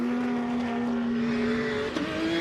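A Porsche 997 Cup race car with a flat-six engine launches off the line at a national hillclimb. A steady, high engine drone holds, then shifts pitch sharply near the end, loud and alone with no voices.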